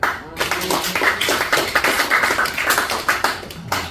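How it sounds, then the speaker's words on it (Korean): A church congregation claps in a brisk, steady rhythm for several seconds during an evening worship service, with voices faintly mixed in. "박수 한번 쳐요."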